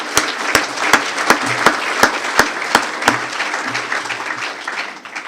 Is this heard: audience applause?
yes